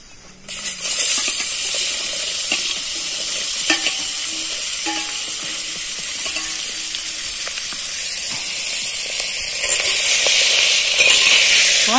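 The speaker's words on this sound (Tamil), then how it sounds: "நல்லா எண்ணெயில நல்லா வதங்கட்டும்." Green chillies sautéing in hot oil for a tamarind chilli dish, a loud steady sizzle and hiss with stirring scrapes throughout, swelling near the end.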